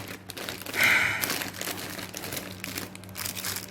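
Crinkling of a plastic snack bag torn open to reach a toy inside, a loud rustling burst followed by softer crinkles with no talking.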